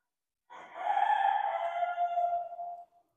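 A rooster crows once among other birds at a poultry show, a single drawn-out call of about two seconds that is clear and fairly near, with no talking over it.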